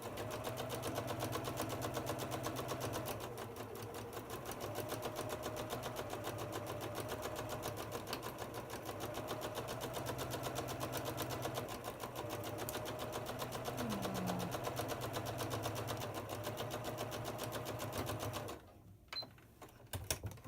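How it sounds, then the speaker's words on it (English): A sewing machine stitches a quilt block for an orange peel quilt, its rapid mechanical whir running steadily and close for most of the time before stopping abruptly near the end. "Just get a couple stitches in, pull my pin out."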